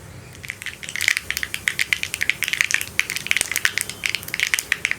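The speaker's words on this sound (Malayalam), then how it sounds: "കടുക് ഒന്ന് പൊട്ടിത്തുടങ്ങട്ടെ." Mustard seeds pop and crackle in hot coconut oil, producing rapid, irregular sharp snaps close by that quicken into a dense, steady spatter with no voices.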